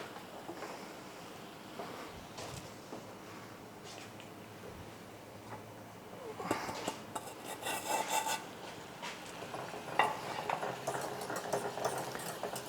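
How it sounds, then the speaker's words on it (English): Polenta whisked steadily in a pot on the heat, a continuous scraping rasp of the whisk against the pot that grows louder and busier toward the end, with no talking. "I need to just keep whisking this till it boils"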